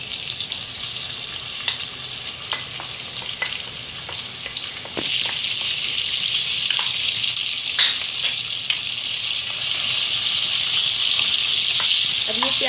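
Chopped onions sizzle loudly in hot oil and ghee with garam masala for a Hyderabadi mutton tahari, with a steady frying hiss, scattered stirring clicks, and a jump in intensity partway through as ingredients hit the pan.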